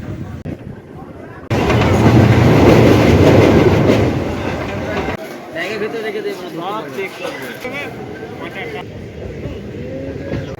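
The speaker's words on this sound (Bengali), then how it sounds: "ট্রেন ছাড়লো গোঘাট থেকে," A passenger train pulls out of Goghat station on the run toward Howrah, rolling rumble and clatter swelling loud near the start, then steady wheel noise with faint bird calls and some background voices.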